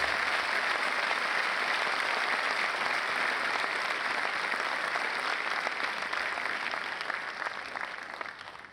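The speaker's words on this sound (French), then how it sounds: "ils vous applaudissent" Audience at a state ceremony in Brazzaville honouring Professor Théophile Obenga, applauding in dense, sustained clapping that stays loud throughout and tapers slightly at the end.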